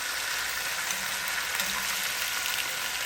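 Oxtails browning in a hot pan give off a steady, even sizzle and frying hiss that holds at moderate loudness throughout, with no talking.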